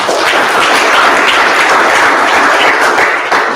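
An audience at a town hall meeting applauds with a dense, sustained wash of clapping, loud and even throughout.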